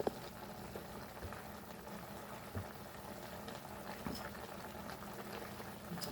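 A pot of chicken masala simmers softly, a faint, steady bubbling with small pops and sizzles, close by and alone without talk.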